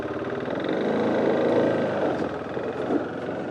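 A motor scooter cruising along a coastal road in Chile, its engine a steady, loud droning hum with wind rush throughout, no pauses or gear changes.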